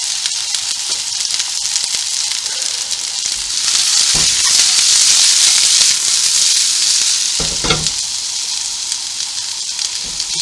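Onion fries in oil in a pan for a venison mince stew, a loud continuous hissing sizzle that swells in the middle, with a few clattering stirs near the end, no talk.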